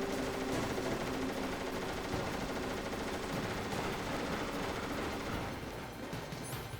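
Enemy gunfire in the PS1 game Metal Gear Solid, a steady, unbroken stream of distant shooting with a muffled, wash-like texture, held at a low level throughout.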